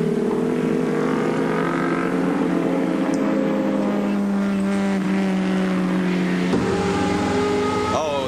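Touring car engines race at Surfers Paradise in a 1987 Australian Touring Car Championship round, a loud sustained droning roar with shifting pitch as cars pass, a sharp gear change near the end, and a commentator's voice faintly under the noise.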